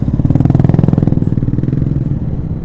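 A motorcycle rides past close by on a badly damaged road, its single-cylinder engine putting out a rapid, loud pulsing putter that gradually fades slightly as it moves on.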